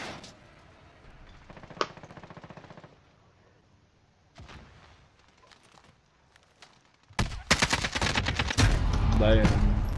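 AK-47 gunfire in a video game: a loud burst of rapid shots toward the end, after quieter scattered single shots and game sounds, with a voice talking in the earlier part.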